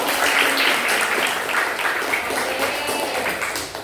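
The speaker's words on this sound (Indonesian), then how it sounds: "Oke ya, tepuk tangan dulu dong untuk Zahra." Schoolchildren in a classroom clap for a classmate named Zahra, a loose, fairly loud patter of small hands that tapers off after a few seconds.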